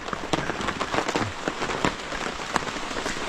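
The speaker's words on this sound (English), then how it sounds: "It's been raining for about 20 or 30 minutes." Rain falls on a tent campsite, a close, steady patter with sharp individual drops tapping irregularly against the fabric.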